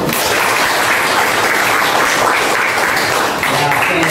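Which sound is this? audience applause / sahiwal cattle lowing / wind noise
audience applause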